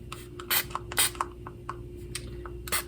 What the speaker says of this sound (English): Okay, I'll spray this napkin.